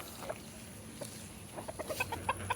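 Gamebird hens cluck softly at a moderate distance, a scatter of short calls that grow busier toward the end over a steady background hum.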